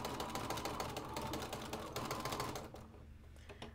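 A sewing machine runs steadily, stitching a quilt seam with a rapid mechanical clatter for most of the moment, then eases off and goes quieter near the end.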